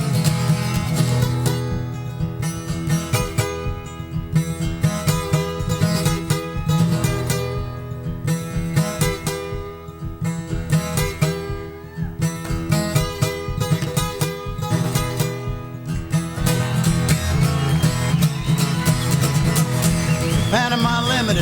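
A harmonica or similar voice-like instrument imitates a freight train blowing its whistle north of town, a loud, sustained, wailing passage with steady rhythmic pulses throughout, heard live at a folk festival.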